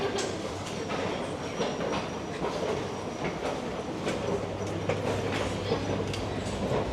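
Inside a large domestic and international train station in Amsterdam, a steady roar of rail traffic fills the space, with wheels clattering, faint squeals and a constant low hum running throughout.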